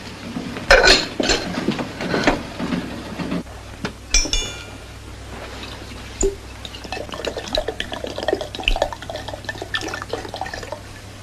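Cups and crockery clink repeatedly in short bright taps, with liquid being poured and a faint trickle between the knocks; no one speaks.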